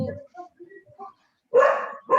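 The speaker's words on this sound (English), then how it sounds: "Adriana, we are hearing some dogs from your side." Dogs bark from a home setting during an online call, a few short barks and yips coming in bursts near the end, loud and close, with faint talk before them.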